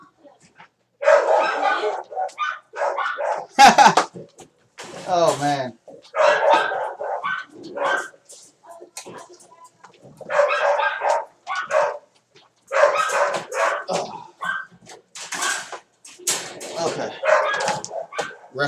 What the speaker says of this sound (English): wrestling with my dog,